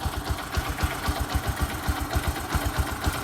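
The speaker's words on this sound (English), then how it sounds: "Let the motorcycle idle for a few seconds" A Bajaj Boxer X150 motorcycle, 2020 version with a broken clutch cable, idles close by with a steady, rapid low thumping pulse and no talk over it.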